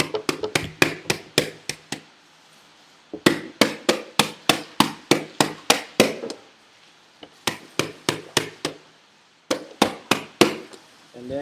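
Baking tray of chocolate macaron batter rapped against a kitchen counter in quick bursts of sharp knocks, about eight to twelve per burst with short pauses between, loud and close with no talk.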